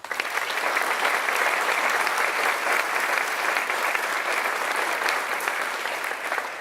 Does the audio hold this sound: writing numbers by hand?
no